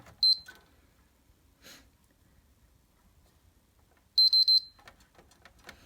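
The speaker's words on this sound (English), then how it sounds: "where's that beep coming from?" Two short bursts of rapid high-pitched electronic beeps from a Sony PlayStation 3 being taken apart, one near the start and another a few seconds later, with quiet rustling in between.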